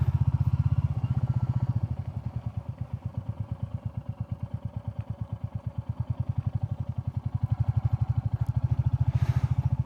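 A Royal Enfield Classic 350 single-cylinder motorcycle thumps steadily at low revs while ridden on a gravel road, its even pulsing beat dipping slightly in the middle and rising again, close and alone with no talk.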